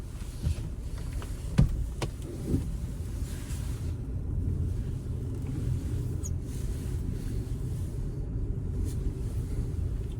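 A VW Passat B6 drives along with a steady low engine and road rumble, fairly loud and continuous, with a few brief clicks near the start.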